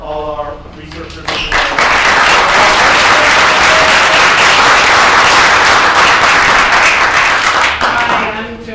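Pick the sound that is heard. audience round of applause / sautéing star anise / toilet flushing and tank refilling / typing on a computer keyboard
audience round of applause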